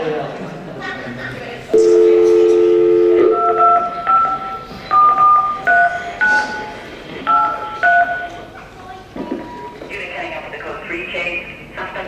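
A telephone dial tone followed by a series of touch-tone keypad beeps as a number is dialed, clear and close in an Indonesian Christmas drama scene, with faint background noise between the tones.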